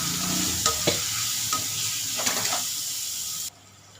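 Chopped large onions frying in oil in a pan for a chicken curry, a steady close sizzle with a few stirring clicks and scrapes, then the sizzle drops away abruptly near the end.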